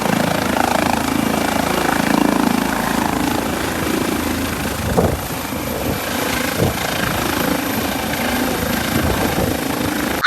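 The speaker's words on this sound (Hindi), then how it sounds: "अभी आप ये जो फ्रेम में देख रहे हैं ये एक प्राइवेट हेलीकॉप्टर है" A private helicopter, worth 60 crore, drones steadily with loud continuous rotor and engine noise throughout, with no clear speech over it.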